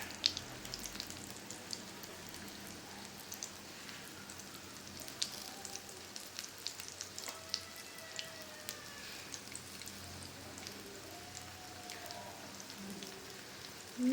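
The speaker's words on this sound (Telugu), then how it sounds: "సో ఇప్పుడు 5 మినిట్స్ ఫ్రై చేద్దాం ఫస్ట్." Brinjal fries on a tawa over a medium flame, giving a soft, steady sizzle and crackle with scattered faint pops. No one speaks.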